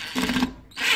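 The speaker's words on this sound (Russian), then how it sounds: "Вот, допустим, нам надо вкрутить в деревяшечку." Cordless screwdriver driving a screw into a piece of wood, a short close whirring drill burst with a steady motor tone, then a brief pause before another loud burst starts.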